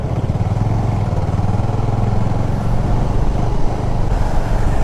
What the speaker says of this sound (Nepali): एभेन्जर गइरहेछ